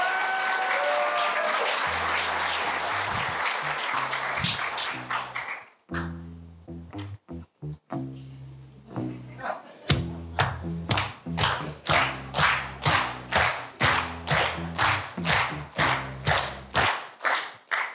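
An audience applauds a graduate student presenter at a computer science research talk, first a dense burst of clapping, then thinning into scattered claps and ending in a run of loud, rhythmic single claps.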